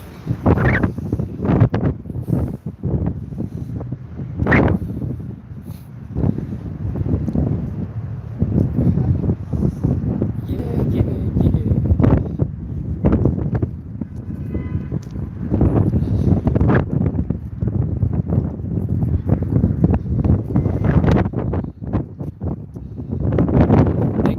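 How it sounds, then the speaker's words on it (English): Gusty outdoor wind buffets a handheld microphone, producing loud, uneven rumbling bursts that rise and fall for the whole stretch, with no clear speech over it. "It's a little windy outside, everybody."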